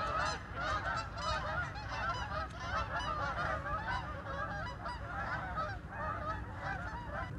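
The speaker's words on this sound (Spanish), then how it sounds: "Muchos patos." A big flock of ducks quacking all at once, a dense, continuous chorus of overlapping honking calls with no pauses.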